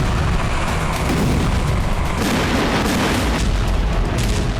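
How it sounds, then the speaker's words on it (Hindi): An M777 155 mm howitzer firing, a dense rumbling barrage of booms and blasts that stays loud and sustained throughout, with a couple of sharper bursts and no talking. "M777 होवित्ज़र।"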